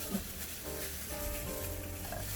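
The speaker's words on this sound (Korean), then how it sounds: "소고기를 볶아줍니다." Faint steady sizzling of beef frying in sesame oil in a pot, a soft continuous crackle with low background hum.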